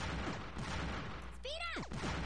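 A power bomb exploding in a Bomberman match on an ice arena, a dense burst of crackling game explosions with a quick sweeping electronic tone, heard under a player's voice.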